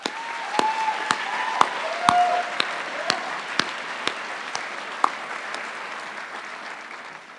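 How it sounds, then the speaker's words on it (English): Audience applause at a high school graduation ceremony in a large venue, steady clapping from a crowd lasting several seconds with scattered louder claps standing out. "Please help me give a round of applause to the people behind the scenes"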